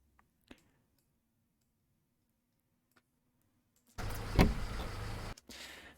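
Car door handle and vehicle sound effects with an engine: a few faint clicks in near silence, then a loud, close mechanical whir and clatter lasting about a second and a half, cutting off and briefly resuming.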